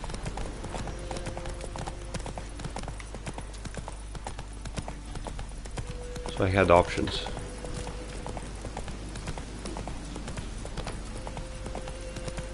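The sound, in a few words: horse hooves galloping, video game The Witcher 3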